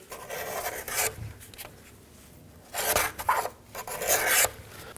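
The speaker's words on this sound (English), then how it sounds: "push the old gasket out, clean the groove if needed" Old rubber throttle body gasket on a 2011-2016 Ford F-350 6.2L V8 being pushed out and its groove scraped clean, giving close, bursty rasping and rubbing scrapes in several short bouts with quiet gaps.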